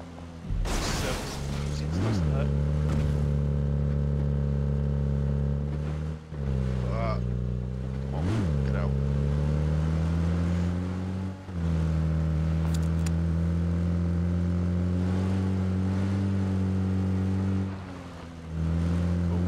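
A vehicle drives in PUBG, its engine droning steadily and rising and falling in pitch with repeated revs and gear changes, close and loud, with some talk over it.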